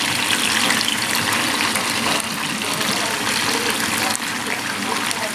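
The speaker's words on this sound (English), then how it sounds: "It's going to splatter a little bit because tofu's got a lot of moisture in it." A pound of moist tofu fries in a single layer in a 10-inch pan, giving a loud, steady, close sizzle with a hissing spatter throughout and no talking.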